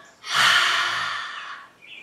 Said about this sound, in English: we'll breathe out through our mouths, pretending that you're fogging up a mirror